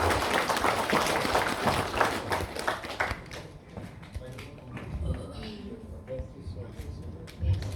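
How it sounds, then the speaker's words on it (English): Applause from a convocation cum award ceremony audience in Bangalore, dense rapid clapping that is loud for the first few seconds, then thins to scattered faint claps under a speaking voice. "can we have a huge round of applause for her as well?"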